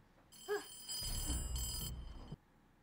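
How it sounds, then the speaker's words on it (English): A telephone rings in a Stranger Things episode, with bright electronic trills in two sustained bursts over a low rumble that then cuts off abruptly. "Just the phone."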